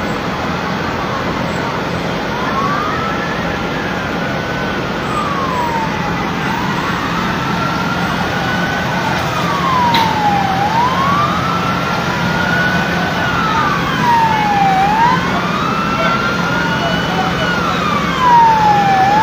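Several fire truck sirens wail in overlapping rising and falling sweeps during a building fire in Pinagbuhatan, Pasig City, loud and continuous over steady street noise, with some talk mixed in.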